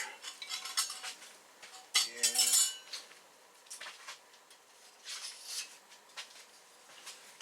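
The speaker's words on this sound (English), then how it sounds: "got half a cup of oatmeal we're going to put in here" Half a cup of oatmeal goes into a pot for oatmeal rolls, with close metallic clinks and scrapes of a spoon or measuring cup against the pot, one louder clatter near the start and softer taps after.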